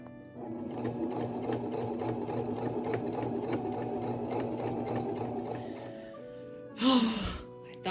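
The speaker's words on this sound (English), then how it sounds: "I stitched right on top of the same stitch line." A sewing machine runs steadily for about six seconds, stitching piping onto a Renaissance giornea overdress, then stops, followed by a brief breathy sound near the end.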